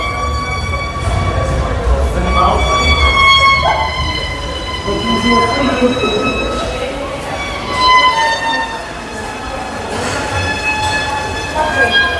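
A metro train at a station in Sofia, Bulgaria, rumbles and squeals in a long sustained tone as it moves along the platform, loud and close, with station echo throughout.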